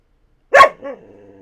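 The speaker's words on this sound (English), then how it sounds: "You gotta stop barking" A dog gives one loud, close bark that trails into a short, low growl, followed by a quieter sustained whine or growl, with silence before it and no talking.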